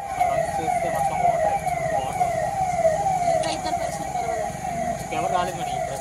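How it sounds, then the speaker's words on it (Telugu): Ambulance siren wailing in a repeating rising-and-falling pattern, fairly close and steady, over traffic rumble, with voices talking alongside. "ఇంకో అంబులెన్స్ వచ్చేస్తున్నాం దగ్గర"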